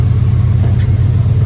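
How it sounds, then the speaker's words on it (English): A Chevrolet Impala SS engine idles as it warms up in a garage, a steady, close, low rumbling hum with no talk. "I'm gonna go ahead and let the car warm up a little bit"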